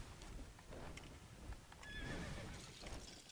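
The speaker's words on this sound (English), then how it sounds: "Is there a horse in there?" A horse in the Lego Worlds video game gives a quiet, high whinny over soft hoof clip-clops and a low, muffled game background.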